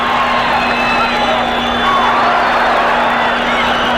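Lively ringside crowd at a 1979 featherweight championship bout between Danny Lopez and Mike Ayala in San Antonio, a dense, steady roar of cheering that fills the whole clip with a constant tone running beneath it.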